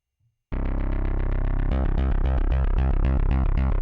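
A distorted OP-X Pro II synthesizer arpeggiator pattern starts abruptly after a brief pause, repeating rapid pulsing notes that grow denser and more rhythmic, loud and close.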